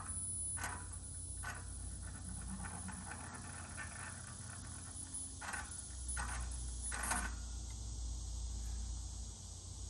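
Holset HE351VE VGT turbo actuator on a Ram truck sweeping through its calibration, heard as faint scattered mechanical clicks and short whirring ticks over a steady low hum and background hiss.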